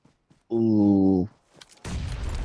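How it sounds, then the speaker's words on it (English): A grenade goes off in a competitive video game match: a loud, steady buzzing tone cuts out, and after a short lull comes a sustained, rumbling burst of blast noise. "What a grenade that was"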